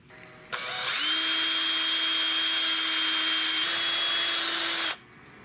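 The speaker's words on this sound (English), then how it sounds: "You can do it against a grindstone." A steel part from a .410 garden gun is pressed against a spinning grindstone, making a loud, steady whirring grind that starts abruptly, holds for about four seconds with a slight drop in pitch midway, then cuts off.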